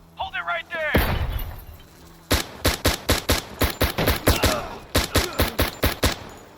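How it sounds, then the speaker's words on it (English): A flashbang grenade goes off with a loud blast in the tactical shooter game Door Kickers 2, followed by a sharp, rapid rhythmic burst of gunfire, with brief voices heard beforehand. "Let's get another flashbang in here. Flash out!"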